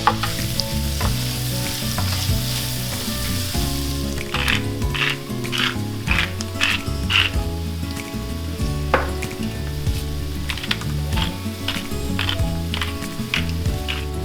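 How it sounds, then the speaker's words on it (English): Finely chopped onion frying in butter in a pan, a loud, continuous close sizzle with occasional stirring scrapes and background music. "To the butter, I'm going to add our onion that is finely chopped or diced, and we're just going to cook this until it's translucent"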